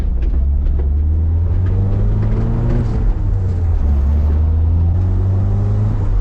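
An old, abandoned Toyota AE86 engine labors while climbing a hill, a loud close low drone with rising and falling rev tones running continuously, no voices over it.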